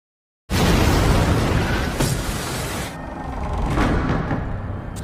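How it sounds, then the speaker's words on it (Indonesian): A booby-trapped gold chest detonates as a bomb in a war film, a sudden loud broadband blast followed by a long rumbling roar and debris noise that stays heavy for several seconds. "Dua orang temannya Senja pun harus hancur lebur akibat ledakan tersebut"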